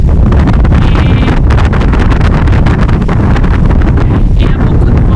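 Loud, constant wind buffets the microphone, a heavy low rumble with occasional gusty crackles, drowning out everything else.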